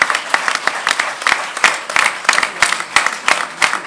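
Concert audience at a show of French Jewish songs applauds with dense, fairly close, steady clapping and no voices over it.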